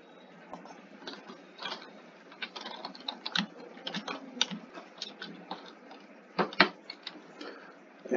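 Array values being typed into a Turbo-C program on a computer keyboard: irregular bursts of close, crisp key clicks with short pauses between numbers.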